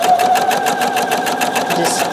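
A sewing machine runs steadily down a log cabin quilt block, a close, continuous rapid clatter of stitching with an even rhythm and no pauses.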